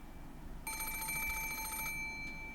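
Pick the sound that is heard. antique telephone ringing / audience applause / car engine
antique telephone ringing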